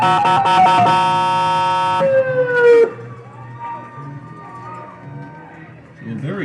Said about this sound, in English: A very clutch hit there by Cam Hill, as you heard the siren going on here at Dunn Field after that hit.